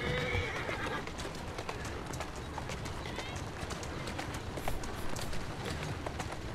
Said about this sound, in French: Il y a le cheval.